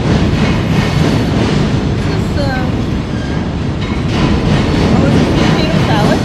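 A train rumbles past on a nearby track with loud, continuous rail roar, wheel clatter and faint squeals throughout. It is heard at a food stall, and voices are partly buried beneath the noise.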